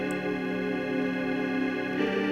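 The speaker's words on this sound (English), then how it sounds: "More like a churchy kind of sound, like an organ." Sustained organ-like synth chords hold steadily, dense and even, with a slight swell near the end; no voices.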